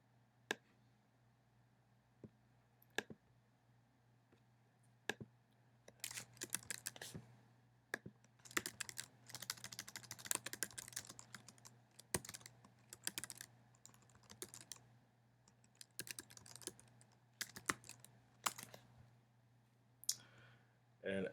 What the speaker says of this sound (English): typing in the firewall commands